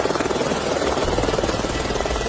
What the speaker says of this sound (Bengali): হেলিকপ্টার দিয়ে লিফট নেবে তারা